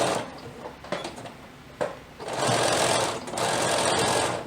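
A sewing machine runs in two long continuous bursts while stitching the pinned elastic waist of a pair of underwear, with a few short starts and knocks before the steady whirring stitching takes over, close and fairly loud.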